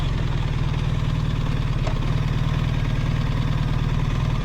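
BMW R1300 RT motorcycle engine running steadily while riding, a continuous low droning hum with a rattling, metallic edge, close and even throughout with no talk.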